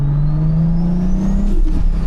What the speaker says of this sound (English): Hey, hit a turbo, hit a dump valve.